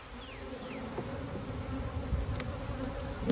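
Honeybees buzz steadily in an open hive full of capped brood, a dense close hum that runs unbroken, with a few brief higher whines of single bees passing near.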